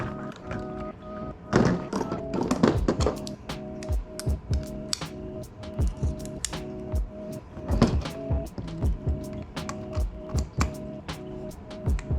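Plastic parts of an EMG DDM4 PDW airsoft rifle are pried from their housing with a tool, giving repeated close, sharp taps, clicks and dull knocks in an irregular rhythm.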